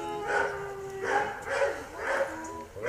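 A Belgian Malinois dog being handled for aggression toward people gives a series of about four close, whining yelps and whimpers at roughly half-second intervals, with faint background noise between them.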